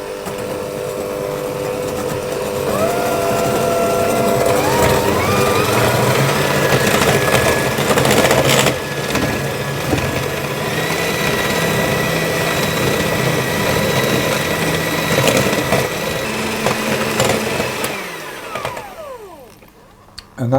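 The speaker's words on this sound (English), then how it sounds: "I'm going to whisk those until they'll go pale and nice and fluffy" An electric mixer whisks eggs and sugar until pale and fluffy for a Tarte Tropézienne brioche, a loud steady motor whir that shifts in pitch and then winds down near the end.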